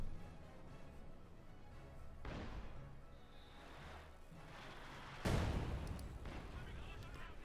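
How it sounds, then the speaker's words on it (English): Artillery shells pound the ground in a Company of Heroes 2 match: muffled booms roll in, and one heavy blast lands near the end. A commentator talks over them. "Bombardment there."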